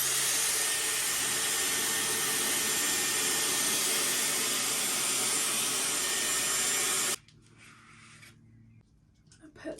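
Dyson Airwrap with a barrel attachment blowing a loud, steady whoosh of air while styling wavy, frizzy hair, running continuously for about seven seconds before cutting off to near quiet with faint handling noises.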